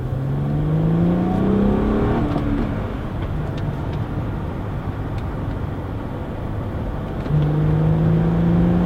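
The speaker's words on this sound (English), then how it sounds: "The engine is not incredibly exciting sounding" A 2006 Chrysler Crossfire Limited with a six-speed manual revs up and climbs in pitch, eases off, then accelerates again, loud and close.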